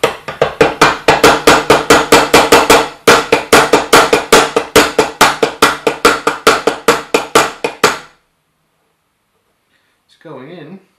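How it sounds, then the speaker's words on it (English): Rapid, even hammer taps fitting a bearing onto the DEC axis of an NEQ6 telescope mount, dozens of sharp metallic knocks close to the mic with one short pause, then silence and a brief voice. "Gentle tap with the hammer."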